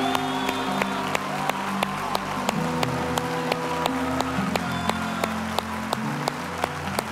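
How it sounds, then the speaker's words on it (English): A church congregation shouting and clapping in praise, a sustained crowd roar with sustained musical tones underneath and sharp regular claps cutting through at a steady beat. "with a shout and a hand clap, would you give that to God just as loud as you can give it?"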